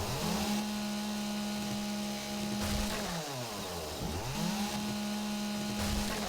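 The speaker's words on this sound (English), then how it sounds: "let's use a chainsaw, take out a little bit of this edge up here." Chainsaw cutting away an edge of a structure in the survival game 7 Days to Die, a steady buzzing motor whine that dips and revs back up mid-cut, loud and continuous with no talk.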